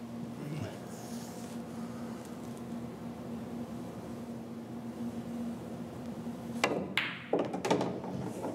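Pool cue striking billiard balls on a table, a shot using the 90/90 aiming system: a couple of sharp clicks and knocks near the end, over a steady low room hum.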